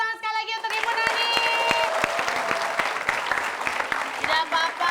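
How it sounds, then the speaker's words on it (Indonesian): A studio audience on a TV comedy show claps for Ibu Nani, loud, brisk applause breaking in after a short sustained musical tone and carrying on with people talking over it. "kita kasih tepuk tangan sekali lagi untuk Ibu Nani."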